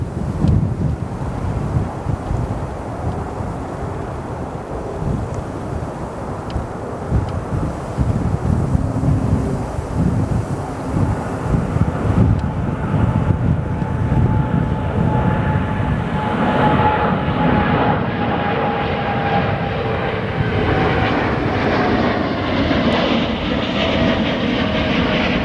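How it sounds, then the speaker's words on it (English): A United Boeing 787 jet departing O'Hare International Airport at night, a loud sustained engine roar with wind buffeting that stays steady and shifts in tone as the aircraft moves past. "Got our next departure, the United 787, with an A320 landing behind it."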